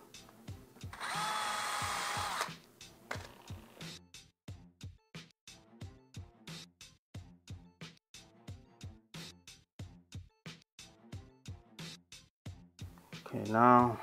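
A power drill pre-drills holes in a replacement door frame, one sustained whirring run near the start followed by many short rhythmic bursts, with a brief louder whine at the end.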